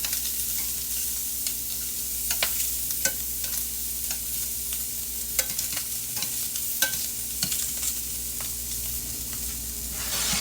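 Shrimp fry in a hot pan with a continuous close sizzle, dotted with sharp crackles and pops at irregular moments.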